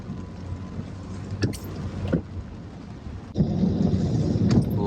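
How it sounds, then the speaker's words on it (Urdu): Thunder rolls through heavy rain in Madina, with a couple of sharp cracks followed by a loud, sustained rumble over steady rain noise. "گرجدار آوازیں سن رہے ہیں؟"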